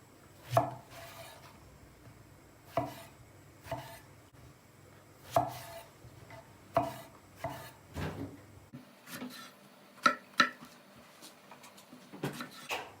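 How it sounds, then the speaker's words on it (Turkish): A knife chops through eggplant on a cutting board in separate, sharp thuds spaced a second or two apart, close up and clear with no talking. "Patlıcanları doğrarken dışından değil, içinden doğrayacağız."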